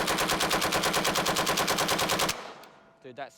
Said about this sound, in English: It literally shoots like one bullet at the top of the bush, one bullet at the bottom.